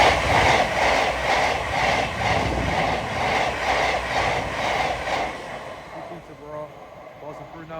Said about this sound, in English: passing through now is a Thameslink service.